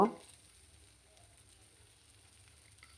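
Fish roe fritters fry in a pan with a soft, steady sizzle that follows a brief louder burst at the start, with no voices.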